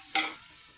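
Onions and green chillies sautéing in a pan, a brief sharp hiss of frying as they are stirred, quickly fading to a soft steady sizzle, close and quiet with no voices.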